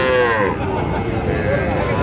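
Cattle at a crowded weekly livestock market give a short low moo, heard briefly over general crowd noise.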